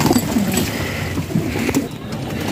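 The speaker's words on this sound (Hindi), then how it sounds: "ये जी काला कबूतर है" A black pigeon coos in low, soft, repeated hoots, close by, while someone talks over it.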